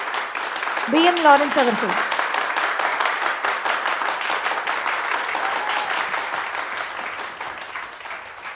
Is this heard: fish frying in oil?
no